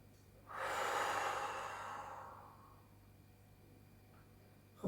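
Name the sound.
slow deep breathing during a relaxation exercise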